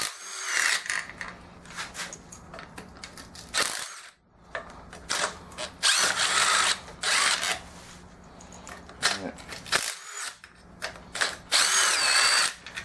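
A power drill or driver spins out the oil pan bolts on a racing mower engine during teardown, running in several loud bursts with short pauses between them and small clinks of loose parts.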